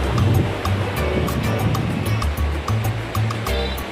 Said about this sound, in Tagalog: Ayan yung dagat.